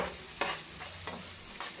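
Onions sizzling steadily in a hot pan, with three sharp scraping stirs at regular intervals over a constant frying hiss.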